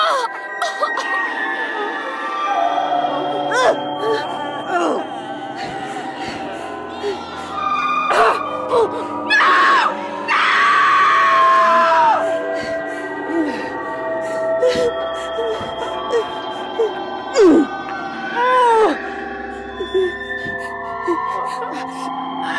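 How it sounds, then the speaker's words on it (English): A Spirit Halloween Convulsing Nurse animatronic plays its soundtrack of screaming, sighs and groaning, loud wailing cries and gasping moans rising and falling over a low droning backdrop for about twenty seconds. "the screaming and the sighs and, like, groaning sounds"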